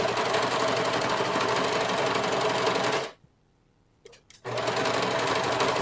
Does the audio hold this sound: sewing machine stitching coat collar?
yes